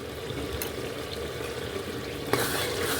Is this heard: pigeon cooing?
no